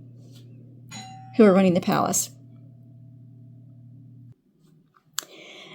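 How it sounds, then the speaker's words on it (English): A home doorbell rings with a clear two-tone ding-dong chime that overlaps a person talking, then the room falls quiet. "And of course, my doorbell rings."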